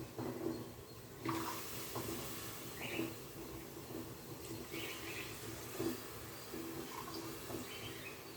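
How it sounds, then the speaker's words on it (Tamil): Coconut milk is poured into a pot of soaked parboiled rice for pulao, making a soft, continuous liquid trickle and splash, quiet and close, with small bubbling accents. "இந்த ஸ்டேஜில் நான் வந்து தேங்காய் பால் ஊற்றிக்கிறேன்"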